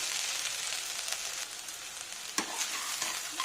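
Okra fry with masala powder and dried red chillies sizzling in a pan, a steady close crackle with a few sharper pops, no voices.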